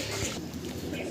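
High-flying pigeons in a crowded loft cage give a brief low cooing murmur under a busy background hiss, with no talk.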